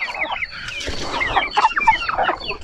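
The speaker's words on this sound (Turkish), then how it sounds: "Bunların içinde gold brahmalarımız var. Mavici civcivlerimiz var." A flock of gold Brahma chickens and blue chicks clucks and chirps busily up close, with high peeping chicks mixed among the continuous overlapping calls.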